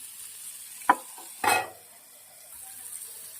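A spoon stirs tomatoes and garlic cooking in a pan for momo chutney, making a short scrape and a louder clatter against a quiet background of soft sizzling.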